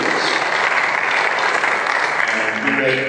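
Audience applause at an address to the National Association of Real Estate Brokers, a steady dense wash of clapping from many hands that carries evenly throughout.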